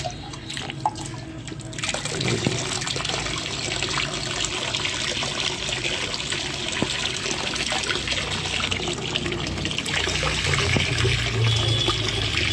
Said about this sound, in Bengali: আমি কিন্তু এভাবে ডাইরেক্ট সাবমার্সিবলে পানি দিই